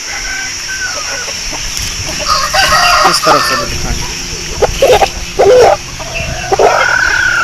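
Aseel roosters in Mandi Bahauddin crow in repeated rising-and-falling calls, some close and loud, over a background of clucking and scattered dog barks, while someone talks throughout.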